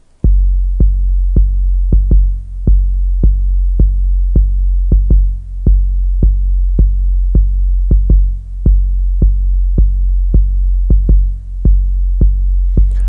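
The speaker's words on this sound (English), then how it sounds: "we're getting ready to drop our bass drum" A deep, booming 808 kick thumps in a steady, fast pulse, each hit ringing out into a sustained low bass tone.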